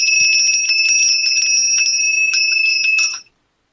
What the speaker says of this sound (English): The bell is going to be not too loud today.